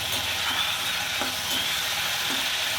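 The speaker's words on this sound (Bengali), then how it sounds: "আলু দিয়ে আমি কষাবো।" Potatoes and papaya are sautéed together in a pan, producing a brief, steady sizzle with a couple of soft spatula scrapes, close by and free of talk.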